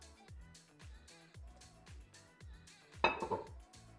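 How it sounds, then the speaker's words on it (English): A non-stick pan set down on a stovetop burner at medium heat gives one sharp metallic clunk and a brief rattle near the end, over steady background music. "First thing I'm doing is I'm heating a non-stick pan on medium heat. And to the pan, I'm gonna add some avocado oil."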